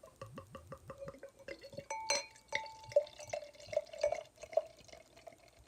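Victory Golden Monkey beer poured from a bottle into a wide-mouth glass, starting with gurgling glugs, then a steady splashing pour and scattered dripping and fizzing, close up and quiet.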